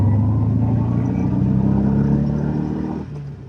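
A 1981 Subaru GL Leone with a swapped-in EJ22 engine revs under added throttle, giving a deep rumbling drone with a steady tone and some clatter before it drops away near the end.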